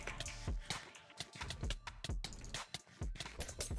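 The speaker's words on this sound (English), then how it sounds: "I can hear you typing." Fast, busy typing on a computer keyboard during a Minecraft HCF session, a dense run of quiet clicks and clacks heard faintly and close, with no voices over it.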